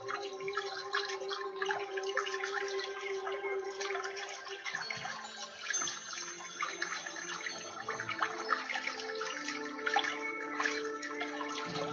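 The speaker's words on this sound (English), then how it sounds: "just enjoy this waterfall with your mind and body." A waterfall pours in a steady, continuous rush of water, with sustained ringing tones layered over it throughout.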